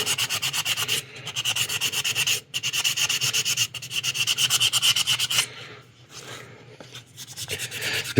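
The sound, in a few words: wet sanding a model kit part with soapy water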